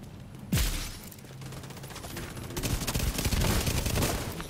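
Bursts of automatic gunfire in The Division 2, a sudden loud shot followed by dense, overlapping rapid fire that builds toward the end, with distant booms and no voices.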